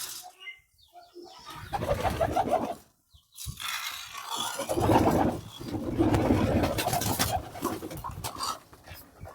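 Pigeons coo in low, throaty bursts while being given their morning wheat, the calls rising and falling close by across several seconds with short pauses between.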